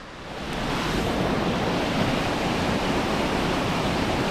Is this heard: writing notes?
no